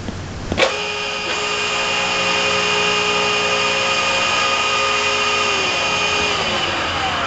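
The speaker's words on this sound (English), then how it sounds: "I'm going to run basically all 6 motors so we can see the full motion of the machine" A lock block machine running all six motors at once, a loud sustained mechanical whine with steady tonal hum, starting after a sharp clunk and holding evenly to the end.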